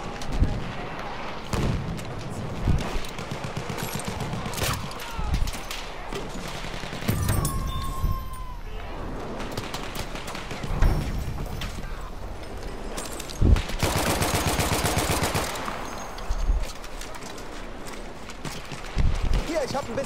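Enemy gunfire in the World War I shooter Battlefield 1 crackles throughout in dense volleys and sharp reports, some near and loud, with a player's voice talking over the battle noise.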